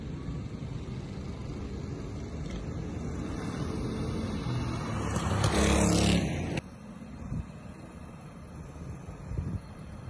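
Go-karts racing on a track during qualifying laps: constant engine drone and wind buffeting, with a louder kart roaring close past midway before the sound drops back to a distant hum.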